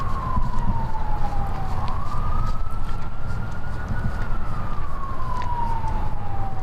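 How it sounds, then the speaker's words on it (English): A wailing siren rises and falls steadily over a constant low rumble of traffic, sounding some distance away. "I hear some sirens."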